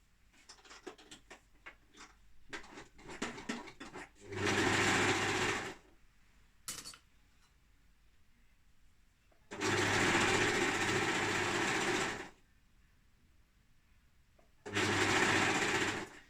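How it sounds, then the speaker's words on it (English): Sewing machine stitching around the outside edge of a leggings waistband, running in three sustained bursts of steady whirring with quiet gaps of fabric handling between them, close and loud with no talk. "I'm just going to sew all the way around this outside edge"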